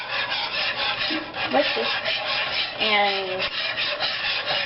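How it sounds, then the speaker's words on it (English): White gravy being whisked in a pan, a steady scraping rub of the whisk against the pan running throughout, with a brief spoken word partway through. "You're going to just kind of whisk it around."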